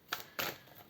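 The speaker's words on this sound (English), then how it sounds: "Oh, hey, look, I'm shuffling better." A deck of tarot cards being shuffled gives two or three quick, faint papery riffles and snaps close to the microphone, with quiet pauses between them.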